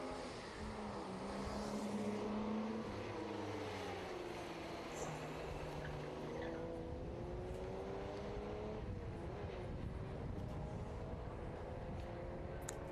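A Valiant race car at the Leyburn Sprints historic motorsport event holds a loud, continuous engine drone that rises and shifts in pitch as it revs and runs, heard from a moderate distance with no talk.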